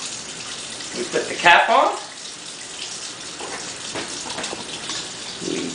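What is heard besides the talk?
water filling a container to the fill line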